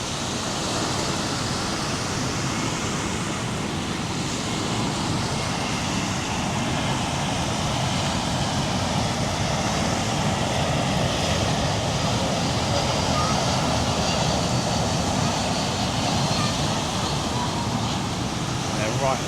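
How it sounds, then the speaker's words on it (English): An airplane flies low on approach near the airport over a beach, a broad steady roar that holds at a constant loudness and swells slightly toward the middle. "Here comes a plane coming in."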